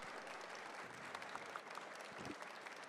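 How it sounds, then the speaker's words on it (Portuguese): Audience applause at a Churchill Meeting Brasil conference panel, a steady, dense patter of many hands clapping from a seated crowd, fairly soft and continuous for a few seconds with no voices over it. "Eu queria pedir uma salva de palmas para o Pondé,"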